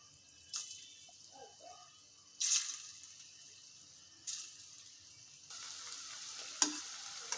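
Bitter gourd pieces deep frying in oil over a medium flame, a soft steady sizzle with a few sharper bursts and stirring sounds, close and fairly quiet, with no talking.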